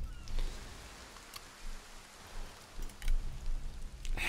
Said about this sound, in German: Wie oft es regnet in dieser Kampagne